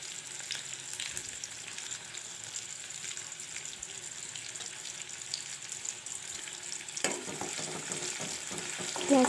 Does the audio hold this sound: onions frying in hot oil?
yes